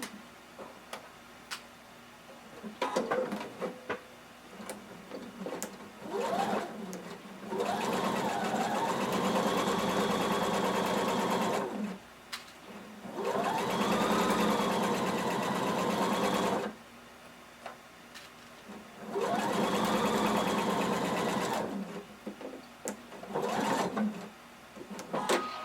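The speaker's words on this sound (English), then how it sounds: "Now we've sewn around the arm, at the shoulder, and all the way down the front." A sewing machine stitches a jumpsuit seam around the arm, shoulder and down the front, running in three long steady bursts of rapid mechanical whirring separated by short pauses with faint handling sounds.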